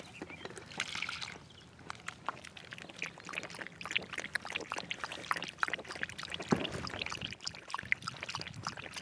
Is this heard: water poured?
yes